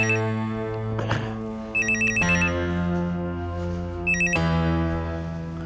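A telephone rings with a repeated electronic ringtone melody, steady and clear with sustained tonal notes in bursts, inside a household drama scene; no one speaks.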